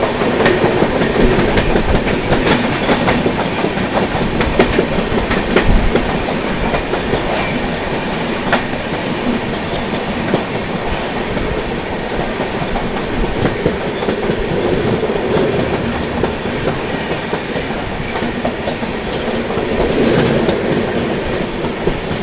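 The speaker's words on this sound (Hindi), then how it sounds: "सामने से आ रही है आप लोगों की हावड़ा छत्रपति शिवाजी महाराज टर्मिनस की ओर जाने वाली" The Gitanjali Express, bound for Chhatrapati Shivaji Maharaj Terminus from Howrah, passes close by in a loud, continuous rush with rhythmic clickety-clack of wheels over rail joints and no voices.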